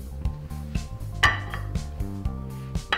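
Vegan broccoli doenjang mayo banchan being plated, with several distinct clinks and taps of dishes and cutlery in a loose rhythm, fairly close and clear, no talking.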